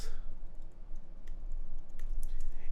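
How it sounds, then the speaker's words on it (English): Typing on a computer keyboard while entering a search on YouTube: a steady run of light, quick key clicks, close and fairly quiet, with no talking. "you simply go to YouTube and just type in Enjoy the"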